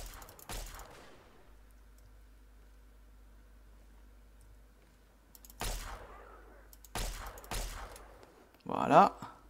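Gunfire aimed at super mutants in Fallout 3: a few sharp broadband shots spaced apart over a quiet low hum, the last one bright and crackling.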